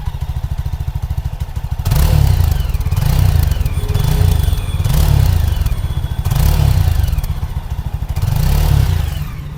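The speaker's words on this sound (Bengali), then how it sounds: "এবার তোমাদেরকে এই বাইকটার আওয়াজটা শুনিয়ে দিই।" A 2024 Yezdi Scrambler with a single-cylinder engine and dual exhaust idles with a rapid, lumpy thump, then is revved loudly several times in swelling, evenly spaced bursts that drop back toward idle between each, heard up close.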